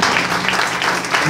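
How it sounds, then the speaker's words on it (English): A church congregation claps together, a brief dense patter of many hands filling a worship hall, loud and continuous with no pause. "Come on, give the Lord a good clap."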